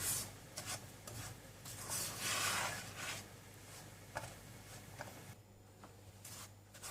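Dry semolina (sooji) roasting in a kadai over low heat, stirred with soft scraping and rubbing strokes, quiet and close with a faint steady hum beneath.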